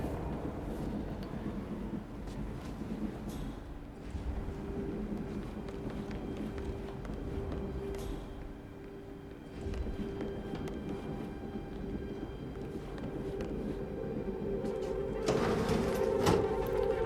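Steady rumble inside a moving train in the Hitman game's Carpathian Mountains level, with rolling rail noise and faint footsteps. The sound swells louder toward the end.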